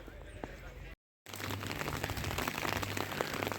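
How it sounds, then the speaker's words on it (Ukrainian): Late-autumn rain in England falls outdoors as a dense, crackling patter of close drops, steady and moderately loud after a brief silent gap near the start. "Вчора був сніг, сьогодні дощ."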